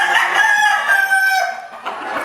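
A white-eared rooster crows loud and close in one long drawn-out call that holds steady and then trails off, with faint background noise and no voices.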